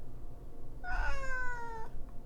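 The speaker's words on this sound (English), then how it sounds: "My cat looks so upset." A grumpy house cat gives a single drawn-out meow of about a second, close and clear over a faint background hiss.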